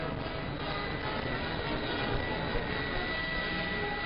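An Avro C102 Jetliner flies over Idlewild Airport, heard as a steady, muffled broadband jet roar with faint engine tones, continuous and fairly distant throughout.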